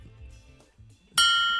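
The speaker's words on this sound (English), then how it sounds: "there's my bell." A small bell is struck once with a sharp, ringing ping that rises suddenly after some quiet rustling and handling noise, then sustains and slowly fades.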